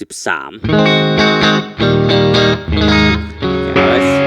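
Clean electric guitar through a Mooer GE-250 Fender Deluxe '63 amp model plays chorded notes with a bright, shimmering tone and light chorus, preceded by a short swooping effect sound.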